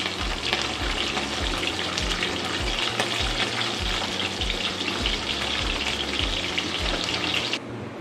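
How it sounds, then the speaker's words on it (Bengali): Bata fish shallow-frying in oil until reddish, a loud, continuous close-up sizzle with constant spattering crackle and faint low rhythmic thumps beneath, holding steady throughout before easing slightly at the very end. "এইভাবে মাছগুলো লাল লাল করে ভেজে নিচ্ছি।"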